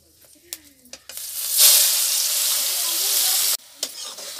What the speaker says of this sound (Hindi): मिर्ची फोरन लगा दिए तड़का को